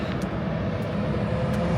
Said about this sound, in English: Let me get away from these noisy trucks.